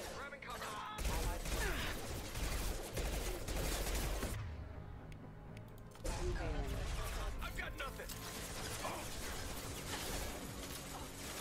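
Dense bursts of gunfire from the video game Mass Effect 2 rattle almost nonstop, loud and close, with a short lull midway. A voice talks over parts of the shooting.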